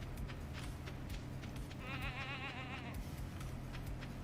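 A goat in a video game lets out one wavering bleat in the middle, fairly faint over a steady game background hum.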